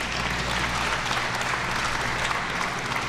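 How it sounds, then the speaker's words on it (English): An audience claps continuously, a dense, even wash of applause with no voices breaking through. "You might want to hold your applause at the end."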